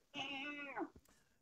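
A cat gives one long, loud, clear meow close by, bending downward at the end, followed by a faint short sound.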